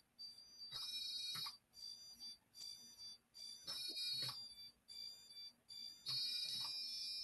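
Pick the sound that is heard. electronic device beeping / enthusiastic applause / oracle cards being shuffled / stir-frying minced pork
electronic device beeping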